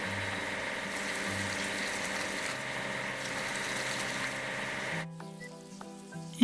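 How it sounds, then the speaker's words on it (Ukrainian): Water sprays and rinses over a cartoon rail handcar in a steady hissing wash that stops abruptly near the end, followed by a few faint electronic tones. "і сполоснути водичкою"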